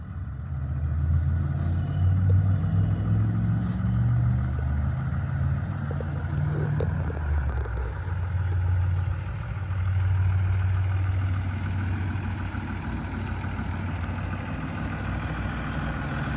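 A tow truck pulls in with a steady, heavy engine rumble that swells and eases slightly as it approaches, continuous and fairly close, with no one speaking.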